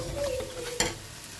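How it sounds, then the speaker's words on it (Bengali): Masala with turmeric fries and gets stirred in a pan, a soft continuous sizzle broken by one sharp scrape of the spoon midway, close and fairly quiet. "এবার পুরো মশলাটাকে আমি সুন্দর করে কষিয়ে নেব"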